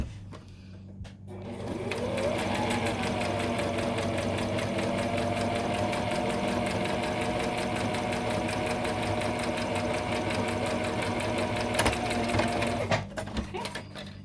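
A sewing machine stitches a curved seam on the face piece of a fabric Olsen mask, running as a steady close whirring drone with a rapid mechanical pulse for about ten seconds before it stops.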